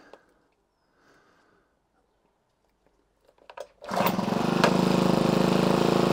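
Honda HHH25 hedge trimmer engine, with faint handling noises and pull-start tugs that lead into the small two-stroke catching and running with a steady, loud, buzzing idle up close.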